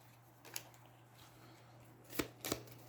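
Cards from the Aeons End card game are shuffled close up and quietly, with a few soft riffling bursts, the sharpest two coming near the end against low background hum.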